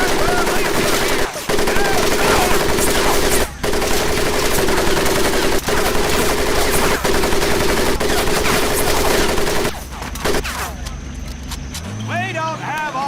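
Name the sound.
gunfire over the mud pit in the Medal of Honor video game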